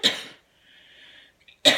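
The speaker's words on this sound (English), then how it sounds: "I have to cough, I'm sorry." Two sharp, forceful coughs from a person, one at the start and one at the end, separated by a brief faint wheezy breath, close and loud.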